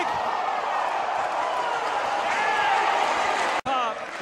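A large crowd roars steadily throughout, cheering and shouting, with a brief sharp dropout near the end before the noise resumes.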